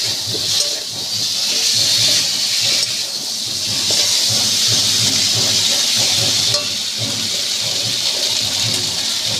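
Water hits a hot pan of frying potatoes for a light fish curry, giving a loud, steady steaming hiss and sizzle that continues throughout with a few brief surges.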